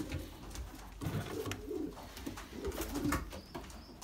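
Pigeons in a breeder's loft coo in soft, repeated low calls, close by and fairly quiet, with a faint background hum and no talking.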